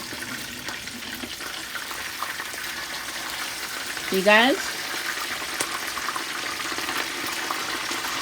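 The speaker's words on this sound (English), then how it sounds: "So I'm gonna let it fry some more." Lane snapper and parrot fish frying in a pan, a steady, even sizzle running throughout under a voice, with a brief louder squeak partway through.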